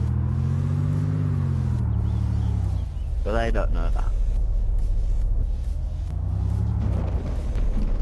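A stolen car from the DayZ video game drives along with a steady, loud engine rumble that rises and falls slightly, while people talk over it.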